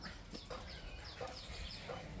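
Chickens in a rural backyard vegetable garden in Buriram, Thailand, give a few short, faint clucks spaced irregularly over a couple of seconds against a soft outdoor background.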